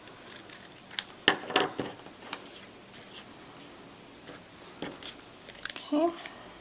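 Scissors snip the corner of a paper gift tag for a snowman card, a few short crisp cuts close to the microphone with quiet handling rustles between them.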